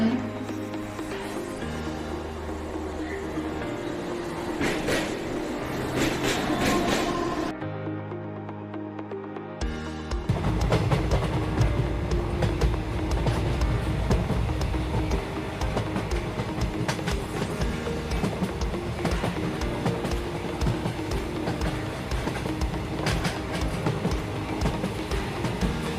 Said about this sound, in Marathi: आली बाबा एकदाची train. Slow local for Panvel via Harbour Line.